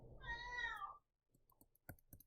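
A pet cat lets out one drawn-out, wavering meow up close, followed by a few quiet clicks and taps.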